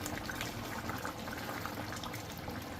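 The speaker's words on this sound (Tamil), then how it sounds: "வாவ் சூப்பராக கொதிச்சிட்ருக்கு ஆல்மோஸ்ட் ரெடி" Prawn gravy bubbles in a covered pan with a soft, steady boil, a faint continuous simmer with no talk.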